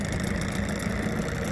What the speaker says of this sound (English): He's gonna start his motor